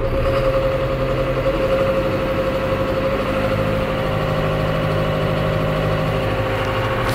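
A Claas Variant 280 baler running on a tractor, with a steady, loud mid-to-low engine drone and a mechanical hum that stays even throughout, no voices.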